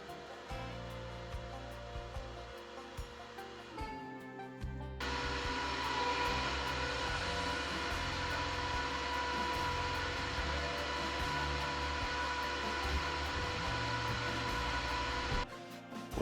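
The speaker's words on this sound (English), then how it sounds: "When the converter is charging or trying to cool off, it does actually get pretty loud." A Powermax 110V AC to 12V DC converter runs loud while charging lithium batteries, a steady broadband fan roar that surges up after a few seconds of lower hum and then holds.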